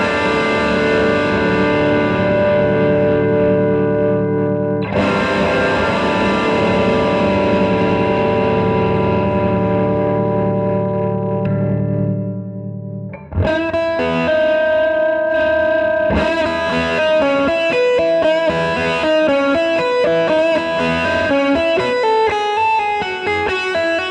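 A Gibson 57 Reissue Gold Top Les Paul electric guitar played through distortion and effects, with sustained ringing chords at first, then a quicker run of picked notes, loud and unaccompanied.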